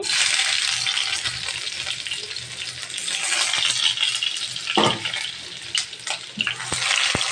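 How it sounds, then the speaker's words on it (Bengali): Loud, steady sizzling of chopped onion hitting hot oil in a wok, with a few stirring scrapes and clatters, no talking. "এখন আমি পেঁয়াজের কুচিটা দিয়ে দিচ্ছি"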